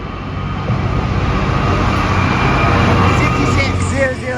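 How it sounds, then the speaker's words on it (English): A freight train passes on the Trent Valley Line with a loud, steady rumble and rolling wagon noise that swells slightly and holds for several seconds. "here comes a freight train, another one"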